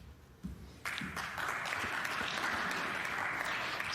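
Applause from a snooker crowd at the Northern Ireland Open semi-final between Judd Trump and Barry Hawkins starts after a couple of faint claps and swells into steady, sustained clapping filling the hall.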